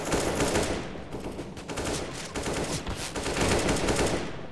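Rapid gunfire in Counter-Strike: Global Offensive, sustained automatic bursts rattling steadily at moderate volume with slight swells, no talk over it.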